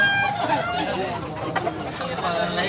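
A handsome rooster, a Milsim Black cross, clucks and chatters close by at a Cebu farm, with voices in the background.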